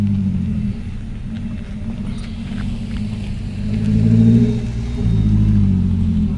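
Private cars idling and rolling in at a night-time swab antigen testing site at Bakauheni port, a steady low engine rumble that swells near the end as a vehicle draws closer, with no talk.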